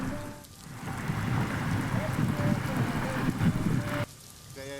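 Heavy rain pours down steadily in a mountain ghat near the Mhasoba temple, forming a loud, dense, continuous roar that carries on for several seconds before suddenly dropping away near the end.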